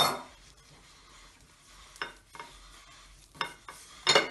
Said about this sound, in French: j'ai mis les 250 g de beurre que je vais travailler avec le sucre semoule